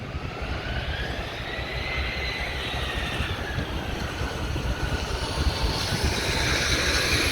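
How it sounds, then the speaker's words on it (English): A fixed-wing airliner lands at Montreal airport with a broad, rumbling jet roar. It is heard from a distance and stays steady, swelling slightly toward the end. "There's that plane that landed in the background there."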